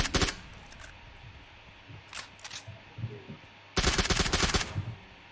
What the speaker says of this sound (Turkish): benzin bidonunu patlat Yaşar abi.